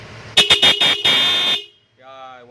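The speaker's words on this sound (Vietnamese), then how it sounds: "Rồi bóp còi Denso em ơi." Denso horn on a 2013 Honda Air Blade motorbike blares in one loud, steady honk lasting over a second, cut into short pulses at the start, then stops and a voice follows.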